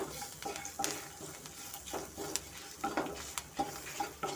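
Spices are stirred and dry-fried without oil in a pan for spicy puffed rice. Soft, quiet scraping strokes and a faint sizzle repeat in an uneven rhythm.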